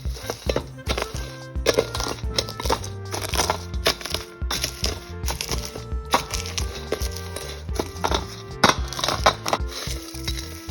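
Roasted peanuts are rubbed by hand to strip off their papery skins, giving a steady dry crackling and crunching with irregular rustling bursts throughout, close and moderately loud.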